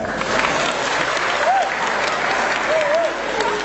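A crowd claps steadily throughout at a cultural gathering at UNY, a dense patter of applause with a couple of brief whistles rising above it.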